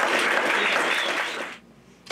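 A studio audience applauds for the host of a local public-access cooking show after a stuffed mushroom segment, a brief burst of dense, close clapping that fades out abruptly.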